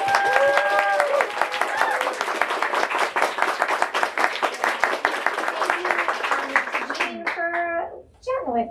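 An audience claps in steady, dense applause that fills the room for several seconds and tapers near the end, with some voices and a few excited cries mixed in.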